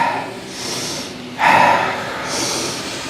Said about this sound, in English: So I'd like you to begin to inhale and exhale quite vigorously.